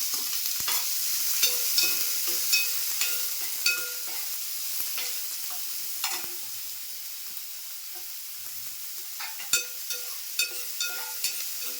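Two medium onions fry with whole spices in a pan for tomato rice, a steady close sizzle broken by repeated scraping stir strokes and occasional sharp clinks of the spoon.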